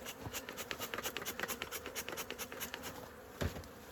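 A honey bee swarm hums at its hive, housed in a 10-frame box, as a faint, steady buzz with soft pulsing swells and one brief louder burst near the end. No one speaks.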